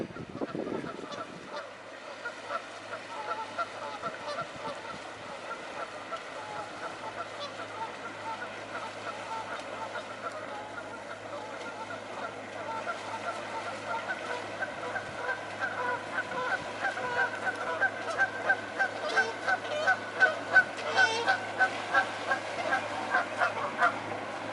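Geese by a river at Symonds Yat West honk repeatedly, a loud, clamoring flock growing busier toward the end, over a steady outdoor background with some distant voices.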